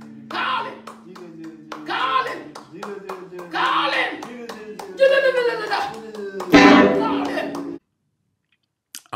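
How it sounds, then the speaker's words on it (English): A single person clapping hands in steady repeated claps, close and fairly loud, alongside singing or talking voices before the sound cuts off. "I'll just sit here and just clap."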